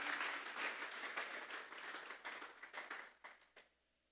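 A church congregation applauding as an offering of praise, a broad wash of clapping that thins into a few scattered, separate claps before dying away, alone with no talking.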